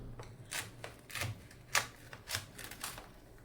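Soft, close crunching cuts through a crisp puffed rice and jaggery slab, a handful of sharp crackly snaps in an uneven rhythm with quiet pauses between.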